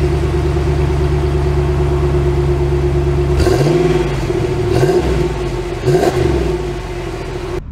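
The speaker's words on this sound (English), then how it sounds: "Oh, setting off in the Power Wagon." A 2022 Ram Power Wagon pickup's engine idles steadily, then revs up strongly as the truck sets off, climbing through three rising surges in quick succession, close and loud with no talking.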